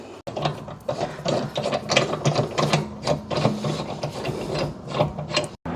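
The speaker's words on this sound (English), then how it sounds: "Once you've broken off all the wheel lug nuts, we can remove them and remove the tire." A hand ratchet spins off the wheel lug nuts on a Saturn Sky, a fast continuous clicking pawl rattle heard up close for several seconds without speech.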